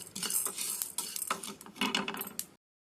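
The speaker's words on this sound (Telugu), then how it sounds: "ఇది కొంచెం బ్రౌన్ కలర్ వచ్చే వరకు ఫ్రై చేయండి." Urad dal, chana dal and cumin are dry-fried and stirred in a pan without oil: faint, quick metallic scrapes and clinks of a spoon against the pan for a couple of seconds, then silence.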